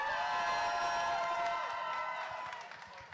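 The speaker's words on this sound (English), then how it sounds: "And again, you hear that crowd." Tournament crowd cheering for a player at an England versus Ireland match, a sustained far-off roar of voices and whoops that slowly fades toward the end.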